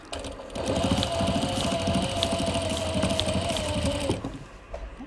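A sewing machine runs several stitches back and forth over the metal end of a zipper, a fast steady mechanical whir with rapid needle clatter, close and loud, stopping abruptly before a few quiet handling sounds.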